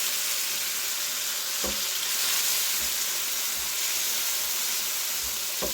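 Chopped tomatoes hit browned onions in a hot pan for an egg and spinach stew, giving a steady, fairly close frying sizzle broken by a few soft knocks, with no talking.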